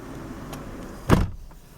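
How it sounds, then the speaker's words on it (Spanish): A single solid thump of a car door shutting on a 2005 Kia Sorento, heard close after a moment of quiet idling, with a brief ring-off afterward. "Voy a cerrar la puerta."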